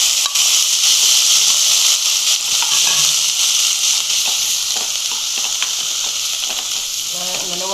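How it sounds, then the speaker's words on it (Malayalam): Onion and tomato sauté in a hot pan with a steady, loud sizzle and hiss, plus occasional scraping and stirring sounds. "അത് കഴിഞ്ഞ് തക്കാളി ഇട്ട് വഴറ്റിയെടുക്കണം."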